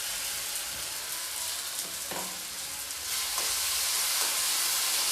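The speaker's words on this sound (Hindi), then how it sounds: "अब मैं डाल दूँगी ये पिसा हुआ टमाटर, अदरक लहसुन के साथ ही मैंने पिसा है इसे" Ground tomato, ginger and garlic hit onions already fried golden brown in a pan, giving a steady close sizzle with brief stirring clatters, the frying hiss swelling louder partway through.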